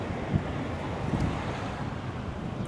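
Strong wind buffets a microphone outdoors in Thailand, a steady, loud, rumbling roar with a few sharper gusts and no talk over it.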